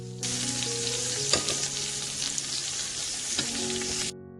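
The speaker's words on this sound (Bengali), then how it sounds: "এই যে সবকটা কোপ্তাই আমার ভাজা হয়ে গেছে" Chicken kofta sizzles and spits steadily in hot oil in a pan, a continuous close frying hiss with a couple of brief stirring clatters and no talking.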